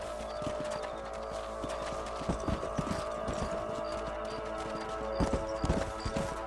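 Galloping horse hooves in the Red Dead Redemption video game, a steady rapid clip-clop of hoofbeats over a constant backdrop of in-game ambience and music, with heavier hits clustering toward the end.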